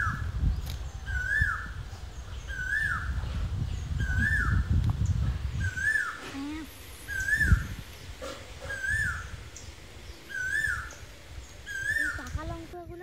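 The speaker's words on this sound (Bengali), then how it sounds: "কোকিলের আওয়াজটাই গরমের সময় শুনতে বেশ মজাই লাগে।" A cuckoo calls again and again in a village garden in summer, its rising notes coming at a steady pace from mid-distance over low rustling and background noise.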